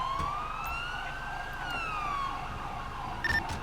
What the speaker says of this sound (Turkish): ekipler gelecek de bak ambulans daha önce geldi